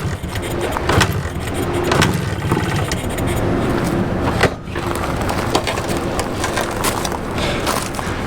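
A 1981 Suzuki TS 250 motorcycle engine with a suspected fuel supply fault runs rough and steady up close for several seconds, briefly dipping and faltering near the middle before picking back up, with no talking.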